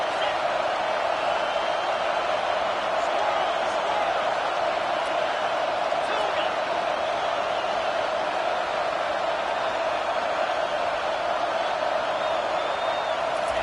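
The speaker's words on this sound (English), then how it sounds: "this crowd is turning it up a notch" Stadium crowd in a college football video game, a steady dense roar held at constant level throughout with a few faint whoops poking out above it.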